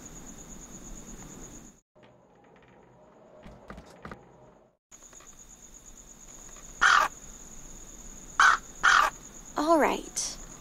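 Crow cawing on a rooftop in the Anna's Quest adventure game: several loud, harsh caws in short bursts over a steady insect-like hum, with a quieter pause and small clicks before them.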